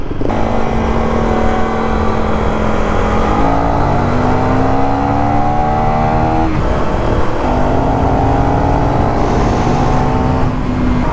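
Motorcycles racing, a Suzuki DRZ400SM against a KTM Duke 390, engines droning and climbing in pitch through the gears, loud and continuous with one shift partway through.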